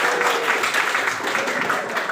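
A classroom audience at a teacher-training teaching simulation applauds, a loud, steady patter of many hands clapping together without a break.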